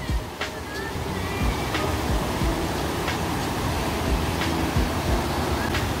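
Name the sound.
waterfall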